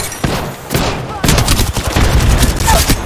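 Loud bursts of automatic gunfire in the video game Apex Legends, rapid shots overlapping into a dense close-range fusillade that builds and continues to the end.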